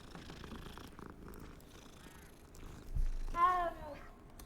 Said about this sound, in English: We're petting the kitty.